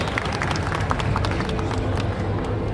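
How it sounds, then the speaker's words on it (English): An audience applauds in a dense, steady wash of clapping that stays loud and unbroken for the whole stretch, with no voices standing out. "Give Devin a big round of applause."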